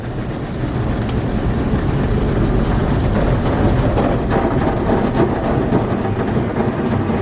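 Steady, loud broadband rumbling and thrashing of Ryko SoftGloss XS 2 car wash brushes slapping against a car body in Windsor, Colorado, continuous throughout with no talking.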